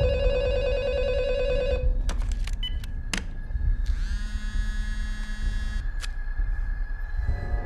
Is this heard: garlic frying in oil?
no